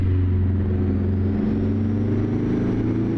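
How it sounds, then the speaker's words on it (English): International 4170 truck with a two-stroke diesel engine in American Truck Simulator, revving hard and busy, a loud steady droning roar with a slight pitch shift midway, no talk over it. "I'm over-revving the heck out of this engine, it's a two-stroke"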